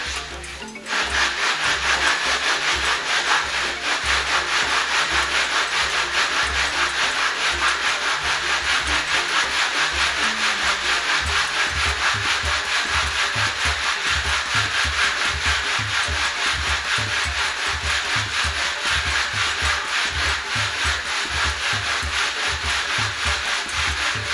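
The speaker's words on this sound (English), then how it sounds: "I'm going to take my styrofoam and I'm going to make a sanding block out of it" Continuous rhythmic rubbing of a styrofoam sanding block scraping back and forth across car bodywork, close and steady for a long stretch with no voices.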